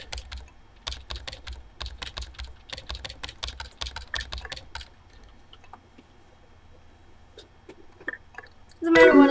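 Rapid clicking keystrokes on a computer keyboard while playing the game Emily Is Away, a busy clatter of typing that stops halfway, leaving faint sparse clicks and a louder thump at the end.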